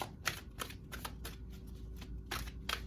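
A deck of tarot cards being shuffled during a reading, with repeated quick riffling bursts of papery flutter at an uneven rhythm, close and fairly quiet, with no talking.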